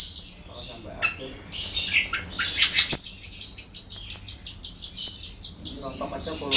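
A caged long-tailed shrike (cendet) sings loudly up close, starting with varied chirps and squawks, then a rapid, evenly pulsed run of repeated high notes that lasts several seconds.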